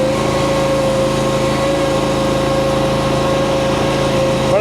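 Engine of a V1000 running with the throttle turned up, a loud, steady, high-pitched mechanical drone with a constant tone that holds unchanged from start to finish, close to the microphone with no talking.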